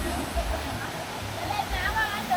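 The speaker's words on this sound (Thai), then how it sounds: "นี่นะครับทุกคนบรรยากาศน้ำตก" Wang Bo waterfall in Prachinburi, Thailand, fed by water flowing from Khao Yai National Park, gives a constant broadband rush close by, with a voice talking over it.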